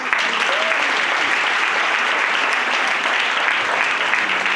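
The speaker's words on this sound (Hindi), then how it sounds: "तालियां जरा बजते रहनी चाहिए" Sustained, dense applause from a large audience at a business event as people are called onto the stage, steady and loud throughout without a break.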